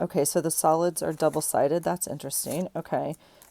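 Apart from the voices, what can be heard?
No everyday noise stands out behind the speech.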